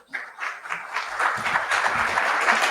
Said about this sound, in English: How about a round of applause for Renee Murphy?